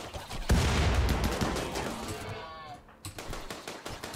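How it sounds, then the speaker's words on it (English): Bursts of rapid gunfire and explosive blasts from a video game colony-building battle against insects, loud and dense at first, then thinning out with scattered shots near the end. "Lorenzo can probably stop firing now"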